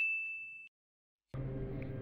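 A single bright notification bell ding rings clearly and alone, holding a sustained pure tone for under a second before cutting off, followed after a brief silence by an unrelated fuller sound.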